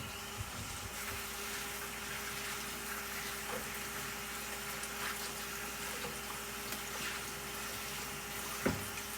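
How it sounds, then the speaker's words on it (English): Tap water runs steadily over food being rinsed for a rice noodle soup, a continuous even hiss of flow with faint clinks, fairly quiet and uninterrupted. "So now what I'm going to do is just rinse it off."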